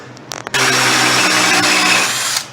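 A power drill spins a brass tube into deer antler with a loud, steady whine lasting about two seconds, after a few brief clicks and taps before the motor starts.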